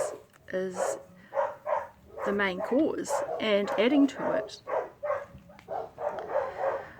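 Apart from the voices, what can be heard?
dogs barking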